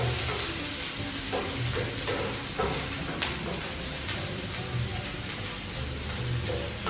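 Garlic sautés in a pan for an Indonesian fish curry, with a continuous close sizzle and occasional stirring clicks and scrapes, no talking.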